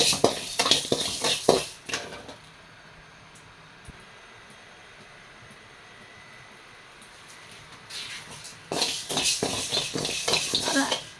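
Raw rice is fried and stirred in a pan, with bursts of scraping and clinking at the start and end and a quiet sizzle between, while a voice talks at times.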